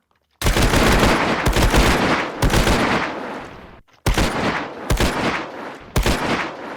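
Bursts of automatic gunfire from a Scorched Guns 2 Minecraft mod weapon, several loud sustained volleys separated by brief pauses, close and without talk.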